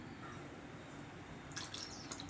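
Gram flour slurry is poured into potato masala for pooris, heard as a quiet, short wet splashing and dripping that comes in after a moment of low background hum.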